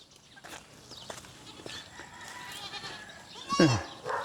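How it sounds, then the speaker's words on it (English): Goats and kids on a farm in the Philippines bleat among low background noise, with one loud, wavering bleat near the end and fainter animal calls and distant voices earlier. "Here's some goats and kids."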